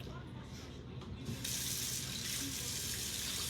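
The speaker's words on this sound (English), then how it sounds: "I might have to add a little bit more water to my bowl" Tap water running into a kitchen bowl, a steady close hiss and splash that grows stronger after a moment and continues without break.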